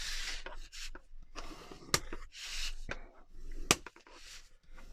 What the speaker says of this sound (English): Come in and do a little bit more burnishing on this.